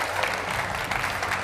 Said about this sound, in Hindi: लेकिन सबसे पहले तालियों के साथ स्वागत कीजिए प्रदीप भंडारी